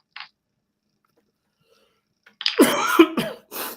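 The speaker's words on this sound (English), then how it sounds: "I apologize for the coughing, people." A single short cough, a long silence, then a louder burst of harsh coughing and throat clearing close to the microphone from someone who is unwell.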